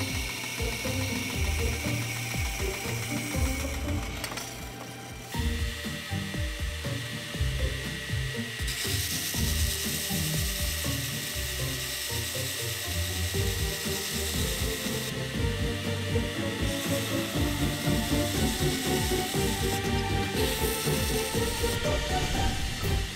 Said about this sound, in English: Finally, I can trim off the excess and sand the base flat.